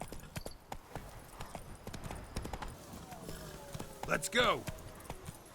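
Roach the horse galloping in the Witcher 3 video game, a quick rhythmic clip-clop of hooves with a whinny near the end, while a person urges the horse on over it.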